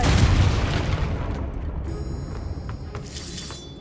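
Confringo, a fiery blasting spell in Hogwarts Legacy, goes off as a loud close boom with crackling, shattering debris that rolls off into a fading rumble over a few seconds.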